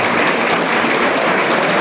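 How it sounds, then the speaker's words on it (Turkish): A crowd applauds the groom at a theatrical civil wedding ceremony in a hotel in Gebze, with dense, steady clapping that stays loud throughout. "Bir boyut alkış efendim damatın için sunuyorsunuz."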